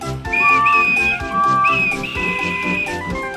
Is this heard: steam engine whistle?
yes